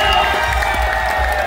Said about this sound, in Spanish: este es el momento ideal para que aplaudan al cocinero y se ponga contento